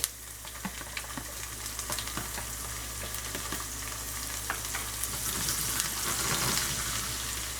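Garlic frying in hot oil over medium-low heat for horse gram dal, a steady crackling sizzle with scattered pops and a faint stir or two, close and fairly quiet, building slightly toward the end.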